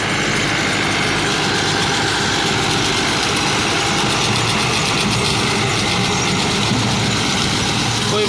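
A Massey Ferguson 385 tractor, a 2019 model, runs steadily close by, its engine producing a loud, continuous drone without pause for the whole stretch.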